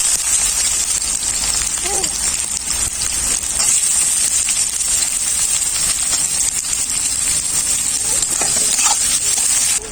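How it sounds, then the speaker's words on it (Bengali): Chopped onion fries in hot mustard oil with nigella seeds in a pan for a ridge gourd dish, giving a continuous close sizzle with occasional scrapes of stirring. "পেঁয়াজ হালকা করে ভাজা হয়ে গেছে।"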